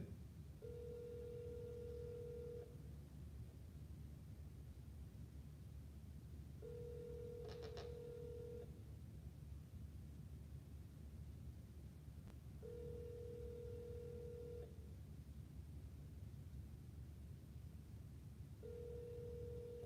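An outgoing telephone call rings with a repeating tone, each burst about two seconds long and spaced evenly apart, four times over a low steady hum. The sound is faint and clear, with no voices.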